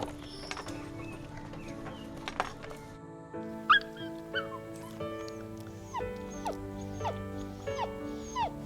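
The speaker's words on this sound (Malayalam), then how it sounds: "ചേച്ചി പട്ടിക്കുഞ്ഞ് അമ്മാളു." A puppy whimpers and yips in short, high, close cries scattered through a quiet indoor setting, with a steady low hum underneath.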